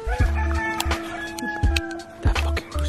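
Loud clucking and squawking from a rooster close by, repeated in short bursts over low mechanical rumble.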